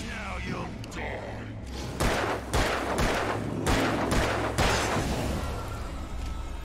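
Gunfire from the video game Alan Wake rings out in several loud, sharp bursts spaced a second or so apart over a low rumbling game backdrop.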